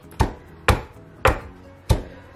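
Turkey berries (chundakka) being lightly crushed on a stone, five crisp, close knocks in a steady rhythm roughly half a second apart, with no voices.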